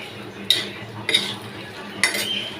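Lentils with salt and turmeric are stirred in a pan, with three distinct metallic scrapes and clinks of a spoon against the pan over a low background.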